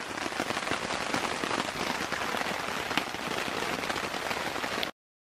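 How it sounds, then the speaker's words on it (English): Heavy rain pours steadily on a surface in the Boundary Waters, a dense continuous patter at even loudness, then cuts off abruptly near the end. "It's been raining all day long. Hard."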